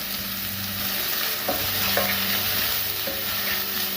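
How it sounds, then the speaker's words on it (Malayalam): Two chopped onions with salt sauté in a pan for Kerala sardine curry with kudampuli, a steady loud sizzle with a few sharp spatula scrapes, close and continuous, no voices. "സവാള നല്ലപോലെ വഴറ്റിയെടുക്കാം"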